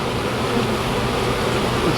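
A dense swarm of honey bees buzzes close and continuously during a transfer into a hive box, a steady, even drone with no pauses and no voices.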